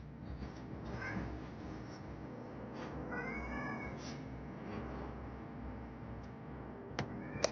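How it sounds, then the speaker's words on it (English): A pet cat cries out indoors with several faint, drawn-out meows and caterwauls over a steady background hiss, followed by a couple of sharp clicks near the end. "then my cat decides to want to cry out"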